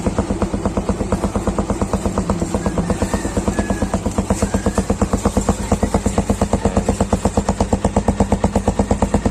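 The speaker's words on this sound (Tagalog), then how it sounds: "Madidinig natin yung tunog ng tambucho na to." A Yamaha STX 125 motorcycle engine idles steadily with a rapid, even exhaust putter that holds constant throughout, close and fairly loud.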